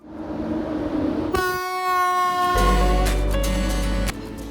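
A retro passenger train in Poland sounds a loud, sustained horn blast after a quiet rumbling start. A heavy low rolling drone joins partway through, then fades while the horn continues.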